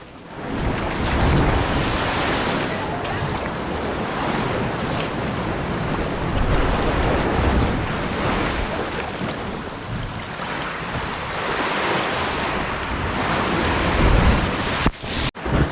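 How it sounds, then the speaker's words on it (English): Ocean swell surging against sea cliffs and gushing through a blowhole along the Trinidad, California coast, a continuous loud rush of surf and splashing water with gusty wind buffeting the microphone. "as the swell rises amongst the cliff, it just shoots out a spout of water, splashing you in the face"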